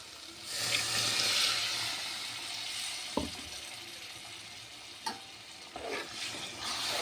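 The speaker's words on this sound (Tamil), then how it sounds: "நான் கொஞ்சமாக தண்ணி ஆட் பண்ணிடுறேன்." Water poured into a sizzling mushroom masala gravy in a pan, bringing a broad hiss and bubbling with a few sharp clinks of a utensil against the vessel, close and moderately loud, with no talking.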